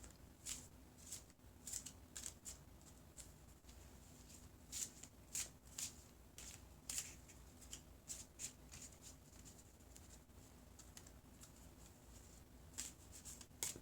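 Quiet, repeated crisp riffling and tapping of playing cards being shuffled, soft and close, with no talking.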